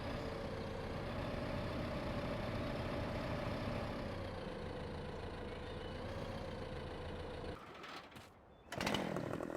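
A tractor engine in the Farming Simulator game drones steadily at a constant pitch, loud and continuous, then cuts out abruptly near the end before a brief burst of sound.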